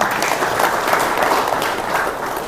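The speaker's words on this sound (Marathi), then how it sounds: "टाळ्या वाजवा एकदा मुलीसाठी त्यांच्या" A crowd of listeners at a talk applauds steadily for a daughter now living in America, a dense continuous clapping close by that holds even across the whole moment and fades slightly at the end.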